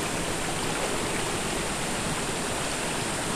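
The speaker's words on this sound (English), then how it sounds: "which is this little cascade" A small cascade in a jungle stream rushes in a steady, dense, unbroken roar of falling water, close and fairly loud, with no voices or other sounds on top.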